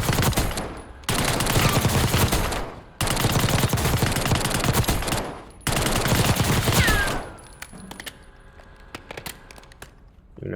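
Sustained bursts of rapid automatic gunfire from the video game Black Ops 6, three long loud volleys separated by brief pauses, then a quieter stretch of faint game sounds and a few scattered clicks.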